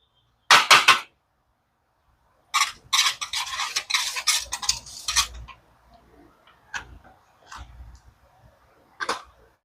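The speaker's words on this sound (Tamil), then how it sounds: "அந்த மாதிரி குழச்சி எடுப்போம்." Hands knead sticky tea bun dough worked with butter in a Jaffna home kitchen, giving soft squelching, slapping bursts in a few close clusters with quiet pauses between.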